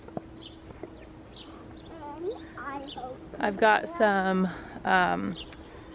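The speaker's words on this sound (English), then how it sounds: "Oh, just listen to the birds." Several birds chirp and call in a garden, faint and distant at first, then brief clearer warbling phrases rise near the end while a person speaks over them.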